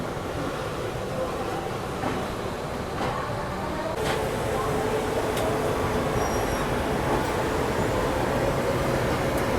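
The Kashi Vishwanath Express, hauled by a DRC shed WAP7 electric locomotive, rolls along the rails with a steady rumble and wheel noise. A sharp clank and a high squeal rise over the continuous motion.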